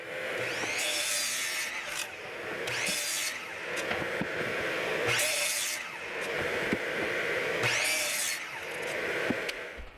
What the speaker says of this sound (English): Here I cut the spacer blocks to length.